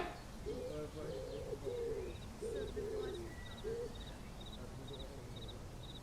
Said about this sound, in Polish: Słyszycie sowę?